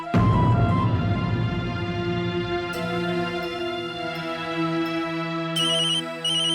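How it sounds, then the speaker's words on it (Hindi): An electronic phone ringtone plays loudly and continuously, a bright melodic tune with repeating chime-like notes and no voices. "अरे माँ का फोन।"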